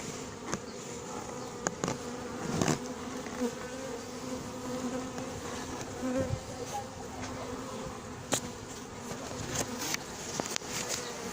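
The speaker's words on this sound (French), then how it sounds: "ce paquet d'abeilles est un essaim" A honeybee swarm buzzing close by, a dense steady drone with individual bees zipping past the microphone in sharp passes, continuous over the whole stretch.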